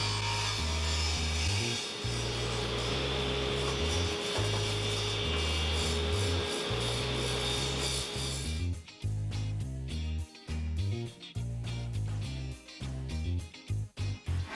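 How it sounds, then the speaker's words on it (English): A table saw cuts a dado groove in wood for a cutting-board clamping jig: a loud continuous motor roar with heavy low hum, which shifts partway through into choppier, uneven grinding as the blade works. "I'm gonna go ahead and cut that on the table saw now"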